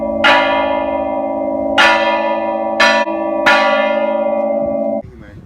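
Mission church bells at Mission San Luis Obispo in California ring four loud, close strikes, each tone sustaining and overlapping the next before the ringing cuts off.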